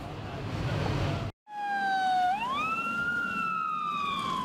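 Ambulance sirens wail near a munitions factory outside Belgrade after a series of explosions, a loud wailing tone sliding upward over steady street and engine noise, briefly cut off by a short gap before rising again.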